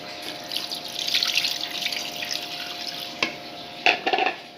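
Water from a glass pours into halwa flour for Tirunelveli halwa, a steady splashing stream with a few sharper splashes toward the end, with no talking.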